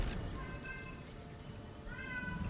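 A house cat meows repeatedly nearby, two drawn-out cries with a quiet gap between, faint against low background rumble.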